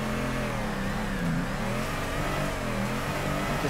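A drifting car's engine in the video game Torque Drift, revving steadily with its pitch rising and falling in smooth sweeps, loud and continuous with no voices over it.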